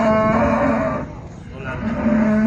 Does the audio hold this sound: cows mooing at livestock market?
yes